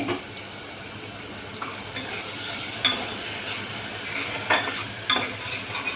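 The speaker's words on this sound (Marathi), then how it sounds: "सगळं एकत्र परतून घेणे." Tomatoes with salt and spices sautéed and stirred together in a pan, a steady sizzle with light stirring scrapes and a few brief clinks of a utensil against the pan, with no talking.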